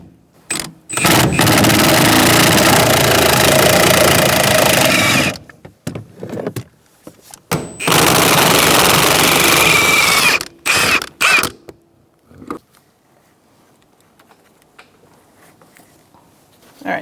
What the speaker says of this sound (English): I'm using a 14mm socket with a swivel and an extension in my impact gun.